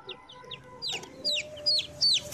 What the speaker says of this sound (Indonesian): Wow, ternyata ada anak ayam teman-teman.